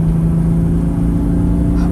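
Loud, steady engine drone with a deep humming tone from inside a moving VW Golf 3 VR6, holding a constant pitch throughout.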